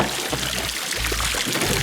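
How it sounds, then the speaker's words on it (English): Water pours steadily from a tipped pool lounger, a continuous splashing gush with small dips and bursts as the flow shifts, heard close and alone. "So the water isn't flowing from here into the leg rest and down out"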